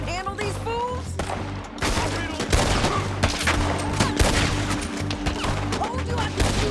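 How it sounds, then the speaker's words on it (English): Dense rapid gunfire from a Red Dead Redemption 2 shootout, a sustained volley of overlapping loud shots and cracks running throughout with hardly a pause, with a background score beneath. "Told you I could shoot a gun"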